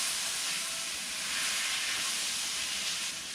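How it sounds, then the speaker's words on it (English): Garlic and garden vegetables sizzling in a hot pan, a loud, dense, continuous hiss filling the whole moment, close and steady. "So I'm gonna go ahead and throw this all in this hot pan."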